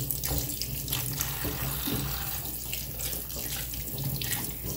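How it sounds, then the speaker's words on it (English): Water runs steadily from a faucet into a sink, a continuous splashing hiss with slight shifts as fiddleheads are rinsed under it. "give them a rinse off under running water"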